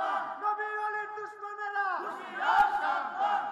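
A large outdoor religious gathering in Nikli, Kishoreganj, Bangladesh answers a takbir call with a loud, massed chant of Allahu Akbar, voices rising in unison, then a second swell of crowd shouting.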